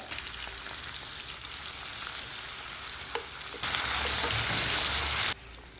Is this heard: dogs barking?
no